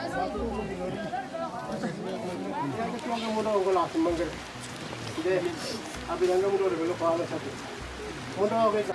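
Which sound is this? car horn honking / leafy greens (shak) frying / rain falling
rain falling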